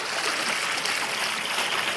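Lower Weber River water rushes steadily through a diversion head gate, a continuous, fairly loud broadband wash with no breaks and no voices.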